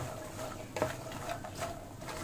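Fox nuts (makhana) stirred in a pan with ghee, a soft continuous scraping and rustling with a few sharper clinks, steady and close, no talking.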